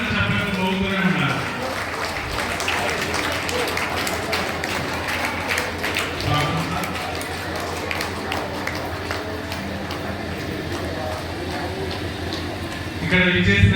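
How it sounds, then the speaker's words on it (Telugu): Long, steady applause from a crowd at a teachers' retirement felicitation ceremony, a continuous wash of clapping held at even strength for over ten seconds, with a voice briefly heard at the start and near the end. "గట్టిగా చప్పట్లు, వాళ్ళు కూర్చుంటే వరకు చప్పట్లు పోగుతూనే ఉన్నారు."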